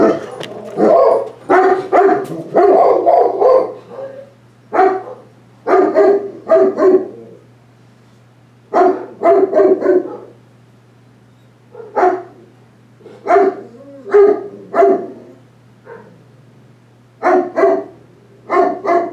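Several dogs barking in repeated bursts of sharp, loud barks with short pauses between, close by over a faint steady hum.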